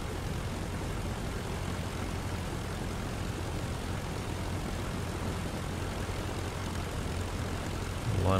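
An Albatros D.Va's engine drones steadily while taxiing in a flight simulator, a constant rumbling propeller hum with no change in pitch and no speech.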